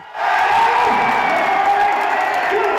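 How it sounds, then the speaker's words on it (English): A loud crowd at a Southwest Missouri basketball game, where team managers play while the fans cheer them on, roars and cheers in a dense sustained wash that rises abruptly and holds throughout. "loudest crowd in Southwest Missouri"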